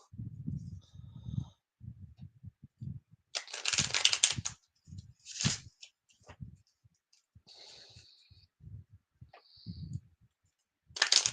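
A new tarot deck is shuffled by hand, giving soft riffling and crisp snapping bursts of card noise interspersed with quiet stretches, while a low voice talks intermittently.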